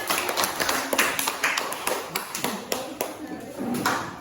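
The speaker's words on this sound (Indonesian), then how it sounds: "tepuk tangan buat kelompok kalian" Classroom group receiving applause from students, a quick burst of irregular close claps with voices mixed in.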